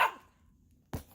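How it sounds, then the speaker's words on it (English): Dogs bark indoors at home, one sharp close bark followed by a quiet pause and then a second bark, moderately loud with no talking over them. "Sorry, my dogs."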